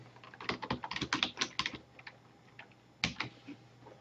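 Quick bursts of computer keyboard typing as a tab name is entered, close and crisp, a rapid run of keystrokes followed by a pause and a few final taps, with no one speaking.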